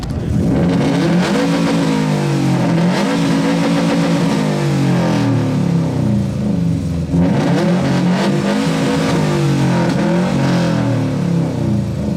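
A car's loud aftermarket exhaust is revved hard at an exhaust loudness competition during the BoxerFest car show, with two long sustained revs rising and falling in pitch, deep and booming throughout.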